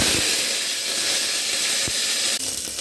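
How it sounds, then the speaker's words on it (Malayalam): Mustard seeds, dried chili and curry leaves sizzle loudly in hot oil: a dense, continuous hiss and crackle running without a break, close and strong throughout. "ഇതിലേക്ക് എണ്ണ ഒഴിച്ച് കൊടുത്ത് നമുക്ക് കടുക് ഇട്ട് കൊടുക്കാം ഇതിലേക്ക് നമുക്ക് വറ്റൽമുളക് ഇട്ട് കൊടുക്കാം"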